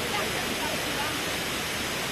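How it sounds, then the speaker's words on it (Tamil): Strong river current rushes steadily on a hill road near Kodaikanal, a broad, dense roar of water that stays loud and unbroken throughout, close by and with no voices over it. "அந்த அளவுக்கு வாட்டர் செம ஃப்ளோவில் போய்கிட்டு இருக்கு"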